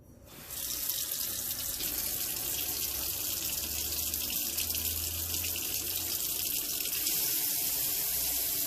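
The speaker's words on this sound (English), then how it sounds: "But let me put the water in." Tap water runs into a cooking pot for corned beef and cabbage, a strong steady gush that starts abruptly and continues evenly throughout, with a faint low hum beneath and no talking.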